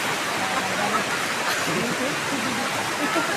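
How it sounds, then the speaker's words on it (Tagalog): Heavy rain pours down in a thick, constant roar of noise, with faint voices partly buried beneath it. "Ang lakas ng ulan kasi."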